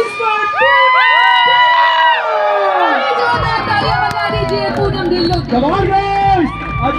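A large crowd at a lively live event in Alwar cheers, whoops and shouts loudly and continuously, with excited voices rising and falling together throughout.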